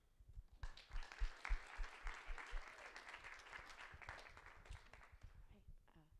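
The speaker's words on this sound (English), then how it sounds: "join me in a round of applause for our Institute of Politics student leader, Nia Warren." An audience at a university politics forum on reparations gives a round of applause that swells after a moment, holds steady, then tapers off, with some voices mixed in.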